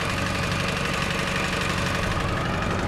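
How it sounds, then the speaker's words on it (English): A tractor engine idles in Laos with a close, loud, steady knocking rumble that chugs evenly throughout. "We are taking a tractor."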